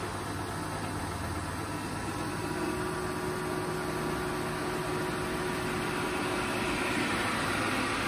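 HAAS VF3 CNC mill spindle running steadily in low gear, a constant even machine hum and hiss with a faint tonal whine, close and unchanging throughout.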